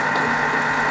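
A Thermomix (Bimby) kitchen machine hums steadily while mixing a batter for a Nutella and mascarpone cake after milk has been added, giving a continuous close motor drone with no talk.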